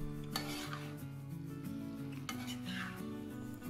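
Cauliflower fry coated in chicken masala gets stirred in a pan, a continuous close scraping and soft sizzle under a steady background hum, with no talking.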